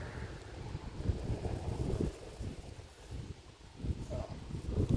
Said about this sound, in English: But it's a little windy